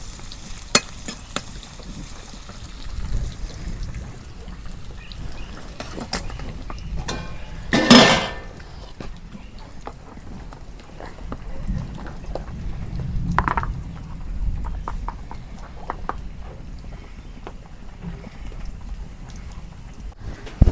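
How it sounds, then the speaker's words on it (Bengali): A spoon stirs a village-style fish curry of jiol fish in a frying pan, giving scattered clinks and scrapes over a soft simmering sizzle, with one louder clatter early on; no one talks. "আজকে চামচ দিয়ে নাড়ব।"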